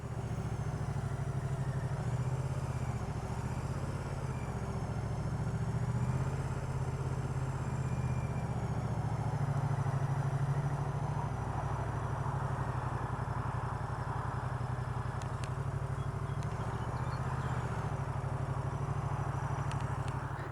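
A Moto Guzzi V100 Mandello motorcycle engine idles steadily and close by, a continuous low rumble with faint mechanical clatter that holds even throughout, with no talk over it.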